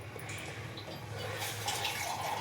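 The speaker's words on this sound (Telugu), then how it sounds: "వాటర్ మనకు కావాల్సినంత వేసుకోవాలి" Water is poured into a pot of curry with garam masala and coconut powder, a soft, close trickling splash that swells a little toward the end.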